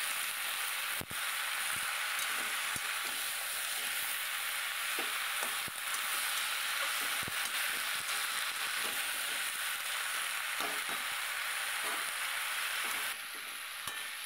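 Vegetables with salt and green chilli frying quietly in a pan, a constant soft sizzle broken by irregular scraping stirs and taps of a spoon against the pan.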